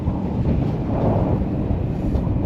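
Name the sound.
wind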